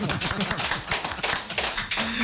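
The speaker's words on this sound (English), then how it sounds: "Can we get a huge clapping sensation here for that?" Studio clapping during a live radio interview with a singer, a dense run of sharp hand claps at fairly close range, steady and unbroken throughout with no talking over it.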